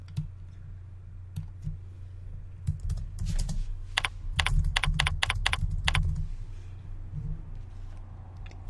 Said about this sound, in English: You can then type the name of the dashboard into this box.